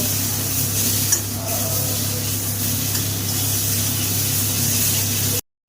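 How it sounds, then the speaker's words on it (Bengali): Spices and potatoes are stir-fried together in a pan with salt for a cabbage and neem leaf dish, giving a steady, close hiss of frying with soft scraping from stirring, continuous until a sudden cutoff near the end. "এবার মশলাটাকে ভালো করে আলুর সাথে কষিয়ে নেব।"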